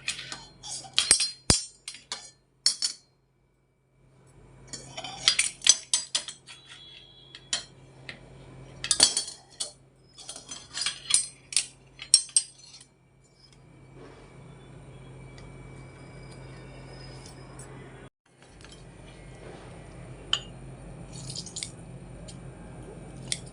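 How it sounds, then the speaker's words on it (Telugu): Lemons are squeezed by hand into a glass for lemon sharbat, with wet squishes, drips and sharp clinks against the glass coming in irregular bursts, close and fairly loud, separated by quiet pauses and steady background hum. "నిమ్మకాయ, ఫుల్ నిమ్మకాయ పిండుతాను"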